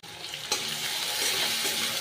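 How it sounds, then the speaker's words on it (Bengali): Chopped onions with bay leaves fry in oil in a pan for a mutton kosha, making a continuous close sizzle with a soft stirring scrape partway through, and no speech. "পেঁয়াজটাকে লাল লাল করে ভেজে নেব"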